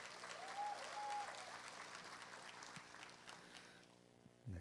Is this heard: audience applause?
yes